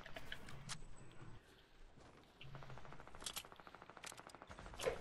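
Gunfire in the video game Fortnite, fast rapid-fire bursts of shots and single cracks sounding fairly faint and distant, with a brief voice in the mix.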